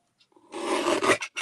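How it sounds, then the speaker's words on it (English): Craft paper being trimmed along the top edge for a die-cut card project: a close, loud rasping cut lasting about half a second after a few faint taps, then a short second stroke. "trim a fraction off the top there"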